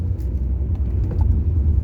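Low steady rumble of a car on the move, heard from inside as a constant engine and road drone with faint ticks above it.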